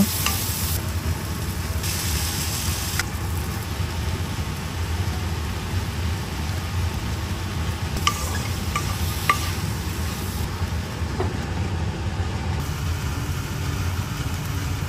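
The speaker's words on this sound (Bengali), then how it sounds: "ওই প্যানে সামান্য তেল দিয়ে পেঁয়াজ, টমেটো আর কাঁচামরিচ ভেজে রাখা সবজিগুলো দিয়ে দিব" Onions, tomatoes and green chilies fry in oil in a pan, giving a steady, close sizzle that runs throughout, with a few faint clinks and stirring sounds.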